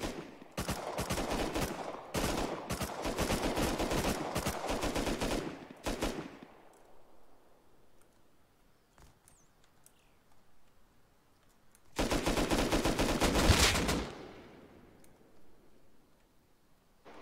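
Rapid automatic gunfire in a video game: two dense bursts of quick shots, one long opening run and a shorter one later, separated by quiet with a few faint ticks.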